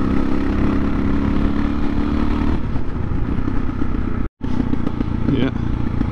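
A motorcycle rides along a dusty trail, its engine holding a steady, close, loud drone that briefly cuts out near the end before resuming.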